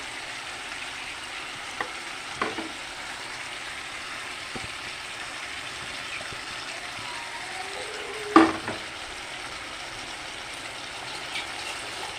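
Potatoes are frying for a chicken curry, with a steady broadband sizzle throughout in the pan and a brief louder scrape or clatter partway through, no talking.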